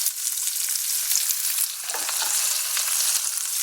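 A burger patty topped with thin onion slices fries in a pan, a steady bright sizzle running throughout with a brief louder crackle partway through, close and alone.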